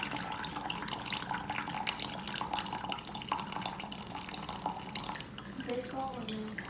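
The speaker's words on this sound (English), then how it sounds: "Look at my cups filling up." Water runs and trickles from a tap or pitcher into cups on a table, a steady faint splashing stream with light drips, while people talk nearby.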